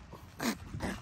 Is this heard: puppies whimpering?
yes